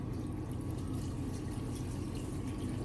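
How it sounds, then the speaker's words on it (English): Leftover water is poured over cabbage packed for homemade sauerkraut, a soft, steady liquid splash and trickle heard faintly and close throughout, with no speech. "But now the water that's left in here,"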